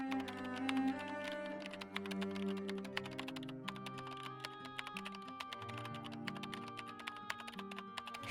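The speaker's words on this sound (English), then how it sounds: "I feel like I've been typing forever" Rapid, steady keystrokes on a keyboard in the Nancy Drew game Curse of Blackmoor Manor, clicking over a sustained musical score.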